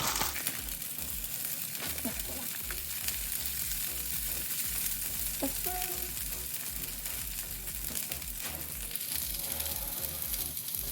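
Fresh potatoes hit a hot pan with caramelizing food for a quick breakfast, a steady close sizzle and crackle with occasional stirring scrapes, fairly quiet and continuous throughout.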